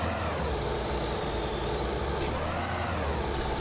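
Tractor engine running steadily in Farming Simulator 2013 as the vehicle rolls downhill, a continuous loud droning hum with a slight pitch sweep and no talk over it.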